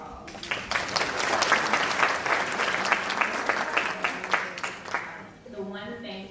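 A room of attendees at an HBCU pre-law evening event applauds themselves, with brisk crowd clapping building and holding steady before tapering off, and a voice starting to speak near the end.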